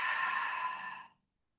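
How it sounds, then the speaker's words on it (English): A deep, breathy exhale during a calm yoga session, a single long sigh of air that holds steady, then tapers off and ends in silence. "Taking a deep, full in breath, fill up, expand. Stay for the exhale."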